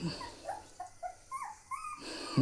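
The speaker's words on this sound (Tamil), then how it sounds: "ஒரு நாய்ங்க தெரு நாய் இது பாருங்கள் எட்டு குட்டி போட்டிருக்குதுங்க" A street dog with a litter of eight puppies gives several short, high whimpers and yips, spaced over a couple of seconds at close range.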